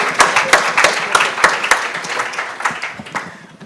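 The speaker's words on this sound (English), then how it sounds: "Please give them a word of applause" Conference audience applauding panelists at an annual conference and AGM, sparse distinct claps standing out in a moderate patter that thins out toward the end.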